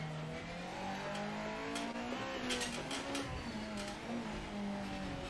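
A race car in the Project Motor Racing video game brakes and downshifts into a corner, engine note stepping through rising and falling tones with a steady mechanical whine, heard close without any talking.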